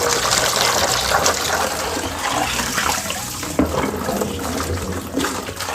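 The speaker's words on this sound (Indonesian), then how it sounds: "Nah, terus diisi air guys, air keran ya." Tap water running steadily into a container being filled for betta fish, a loud continuous gushing splash with no talking.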